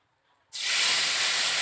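Spice paste is dropped into very hot oil in a kadai, setting off a sudden, loud, steady hiss of sizzling that starts abruptly after a brief quiet moment and holds without a break.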